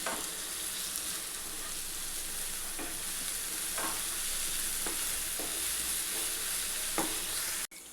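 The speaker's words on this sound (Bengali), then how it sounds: "রসুন আদার পেস্টও একটু মিশিয়ে দেবো, 1 চামচ করে করে। এটাকেও ভালো করে একটু কষতে থাকবো।" Ginger garlic paste sautéing in oil in a pan, a continuous soft sizzle broken by occasional spatula scrapes and taps, ending with a sharp clatter.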